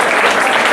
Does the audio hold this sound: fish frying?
no